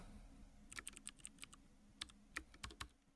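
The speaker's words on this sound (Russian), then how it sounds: "Этот звук клавиатуры, он просто божественный." Someone types on a computer keyboard in a string of sharp, uneven clicks that come in quick bursts with short gaps between them, close and fairly quiet over a faint low hum.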